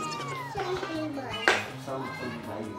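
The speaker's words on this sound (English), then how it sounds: "What sound can cat make?" A cat meows with drawn-out, wavering tonal cries that rise and fall. A sharp clap-like hit lands in the middle, and a voice is audible around it.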